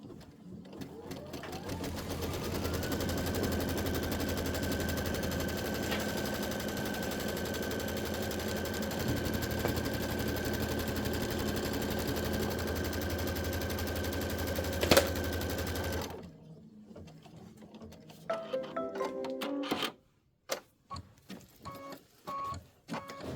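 A Kimberbell embroidery machine runs a long placement stitch for batting, buzzing rapidly and evenly at close range for about sixteen seconds before stopping, followed by scattered clicks and handling noises.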